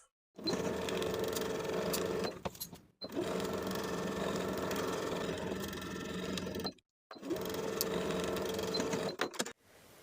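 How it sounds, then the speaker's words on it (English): A sewing machine stitches the side and top edges of a Gilbert top collar with a 5/8 inch seam allowance, running in three steady, close bursts separated by short pauses. "Sew the side and top edges with a 5/8 inch seam allowance"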